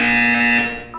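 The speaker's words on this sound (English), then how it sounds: "When you hear the buzzer, look down at the floor." A buzzer in the video game Portal 2 sounds a single loud, sustained electronic tone that cuts off after about half a second and is followed by a brief trailing blip.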